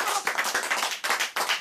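A burst of applause: many hands clapping quickly and steadily, fairly loud and close, with no voices.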